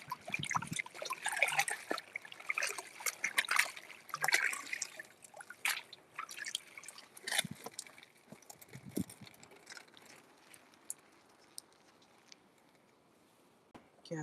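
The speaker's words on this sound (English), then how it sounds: "I like to wash the stuff off because bugs be hiding" Running water rinses Swiss chard and a tomato under a tap, a continuous trickle and splash with scattered drips and clatters, fading quieter toward the end.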